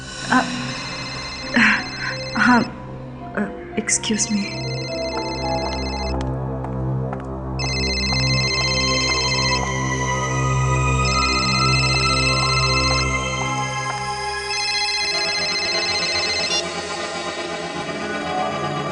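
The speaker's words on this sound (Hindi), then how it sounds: "आपका फोन बज रहा है।" A melodic phone ringtone plays on and on with sustained electronic tones, fairly loud, while a person speaks briefly over it.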